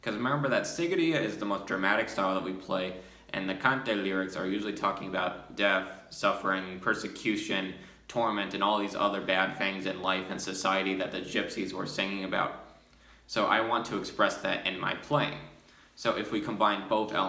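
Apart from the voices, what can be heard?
No everyday noise stands out behind the speech.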